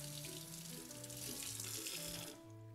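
Tap water runs steadily over frozen mackerel in a kitchen sink to thaw it, a close, even splashing stream that fades near the end, with a faint tonal melody in the background.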